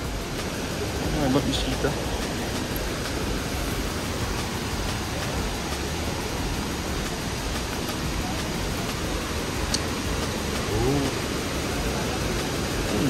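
Daday Falls in Alamada, Cotabato roars as a constant broad rush of falling water, loud and steady throughout, with a person talking over it now and then.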